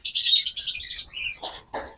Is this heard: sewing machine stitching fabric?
no